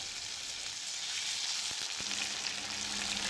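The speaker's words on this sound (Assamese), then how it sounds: "এয়া মই কেৰাহীত মিঠাতেল দিছোঁ আৰু প্ৰথমে মই বেঙেনাখিনি ফ্ৰাই কৰি লওঁ।" Wet eggplant pieces spit and sizzle loudly in hot mustard oil in a wok, a dense continuous crackle broken by a few dull knocks of a utensil.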